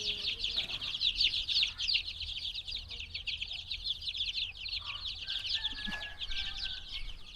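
Eighteen-day-old country chicks on a Tamil poultry farm keep up dense, continuous high peeping, with occasional lower clucks from grown hens beneath, steady and close without any talk.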